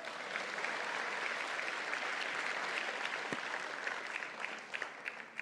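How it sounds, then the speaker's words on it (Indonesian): Audience applause at an Indonesian PSI party gathering, a dense, steady burst of clapping that stays fairly loud for about five seconds with no speech over it. "Tepuk tangan dulu dong."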